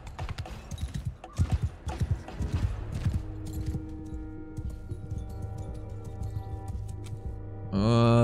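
Horse hooves clop in Mount and Blade Bannerlord, a quick run of loud, uneven hoofbeats over the first few seconds that fades into a steady hum, ending with a sudden burst of noise.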